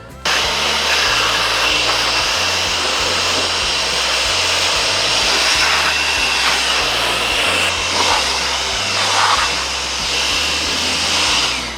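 A blower runs loudly and steadily at a portable sawmill while 6x6 oak fence posts are being cut, a constant close whooshing drone that barely changes throughout.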